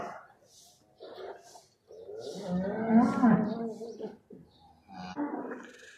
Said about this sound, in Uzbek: Ichkarida sigirlarimiz bor, yangi tuqqan sigirlarimiz bor mana.